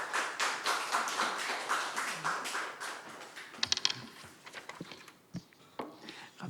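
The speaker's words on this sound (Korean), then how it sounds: "우리 박수로 환영하겠습니다." A church congregation at a Wednesday worship service applauds to welcome the pastor, a soft, scattered patter of clapping that fades into a few isolated claps and small room noises.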